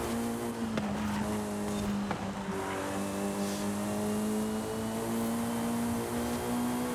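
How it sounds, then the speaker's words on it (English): A car in the Forza Horizon racing game accelerates hard uphill, its engine a steady, loud, rising drone with layered harmonics that climb in pitch throughout, alone without talk. "Have some serious power to be going this fast uphill and accelerating."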